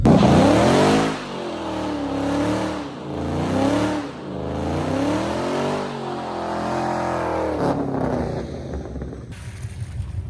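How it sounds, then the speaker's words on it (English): A car with a welded differential does a burnout, its engine revving hard in repeated rising and falling sweeps, loud and close, with tire noise as it ends. "give you guys a quick little burnout"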